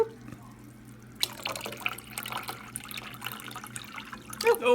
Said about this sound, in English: I'll pour some more spring water in there.